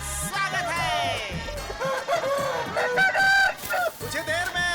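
Roosters at a cockfighting competition crow and cluck loudly over one another in a busy, crowded setting, several overlapping calls throughout, with people talking in the background.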